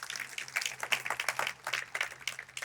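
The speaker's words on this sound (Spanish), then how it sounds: "vamos a empezar esta predicación dándole un aplauso fuerte al Rey de Reyes" A church congregation applauds during a Spanish-language sermon, a dense scatter of many hands clapping in uneven rhythm, moderately loud, with no voices on top.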